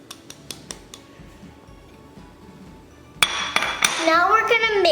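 Peanut butter cookie ingredients being mixed in a bowl: a few light clinks at first, then a louder, continuous mixing and scraping noise with shifting pitch that fills the rest of the clip.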